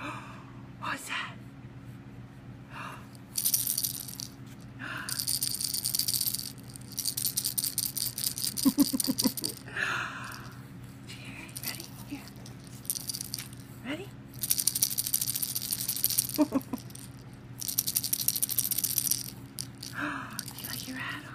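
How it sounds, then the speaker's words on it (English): A baby rattle is shaken in repeated bright, crisp bursts, close to the listener, with soft talking to an infant in between. "Did you hear your rattle?"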